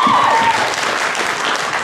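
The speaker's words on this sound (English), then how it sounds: "Another round of applause for them." Enthusiastic audience applause at a singing performance, a full, continuous wash of clapping from many people that holds steady for a couple of seconds.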